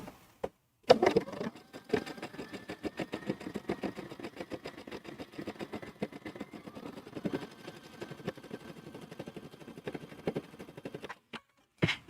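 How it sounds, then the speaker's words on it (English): A sewing machine stitches along the long edge of a fabric strip, running steadily with a fast, even needle rhythm close up after a brief start-up, then stopping near the end. "pivot your fabric once more so we can sew along the long edge of our strip"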